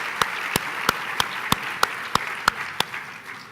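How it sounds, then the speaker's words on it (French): Sparse, evenly spaced hand claps, about ten sharp slaps in a few seconds, come from a small audience applauding a blue bicycles initiative at a regional gathering. They sound fairly quiet and slightly distant. "On peut encore applaudir cette initiative des bicyclettes bleues."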